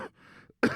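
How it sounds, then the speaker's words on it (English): A single close throat clearing in a live setting, one short rough rasp followed by a brief pause and a stronger burst. "I just gotta clear my throat."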